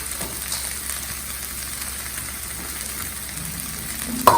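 Potatoes go into a hot pot for a one-pot dal bhaat meal, producing a constant soft frying hiss that ends in a short, sharp knock.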